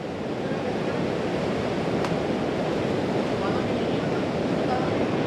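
Ocean waves at Melasti Beach rumble as a steady, loud wash of surf, with a continuous broadband roar and some wind across the microphone throughout.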